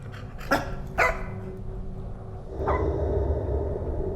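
A dog barking in the horror video game Supernatural, two sharp barks close together followed by a third after a pause, over a low ambient rumble with no talk.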